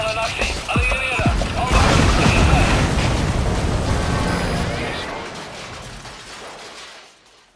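A separator tank explodes in the PC game Metal Gear Solid V: The Phantom Pain, a loud booming blast with crashing debris that rolls on and fades out slowly over several seconds.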